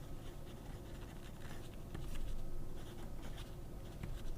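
A Montblanc 149 fountain pen with a medium nib scratches steadily across paper, a soft, close, continuous writing sound with no talking.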